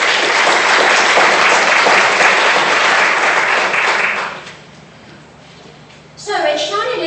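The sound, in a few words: audience applause at a graduation ceremony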